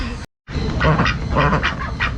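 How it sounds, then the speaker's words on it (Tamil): Several ducks quack close by in quick, overlapping calls at a birds park after a brief dropout at the start. "அந்த வாத்தெல்லாம் இந்த சைடில் எல்லாமே வச்சுருப்பாங்க"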